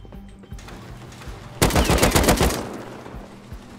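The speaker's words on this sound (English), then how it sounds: "how do I turn off the turret?" Automated turret firing in a survival video game, a loud rapid burst of gunfire lasting about a second after quieter background noise, with faint scattered shots around it.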